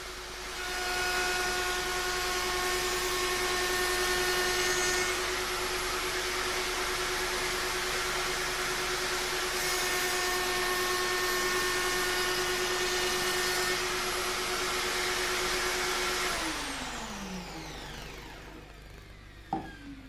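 A wood router cuts a dovetail joint in steady progressive passes, a loud continuous high whine that holds for about sixteen seconds before the motor spins down and a small knock closes it.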